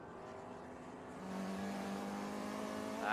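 Vintage race cars, including an MGB and a 1987 BMW 325i, roar past on track during an Enduro race, engines droning steadily with a rising pitch and a louder surge at the end.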